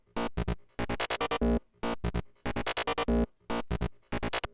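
A psytrance grid synth plays a sequenced MIDI pattern stepping through wavetable positions, loud and alone, in tight rhythmic bursts of short stabs broken by brief gaps across about four and a half seconds.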